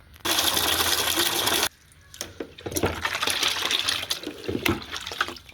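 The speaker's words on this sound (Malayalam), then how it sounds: "ഇത്ര ഇട്ടിട്ട് നന്നായിട്ട് വെള്ളം ഒഴിക്കുക" Water pours into a bucket holding Pseudomonas powder in a steady splashing gush for over a second, followed by quieter sloshing and mixing sounds.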